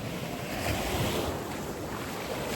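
Sea waves rolling onto a beach on Rhodes, a steady close wash of surf mixed with gusting wind buffeting the microphone.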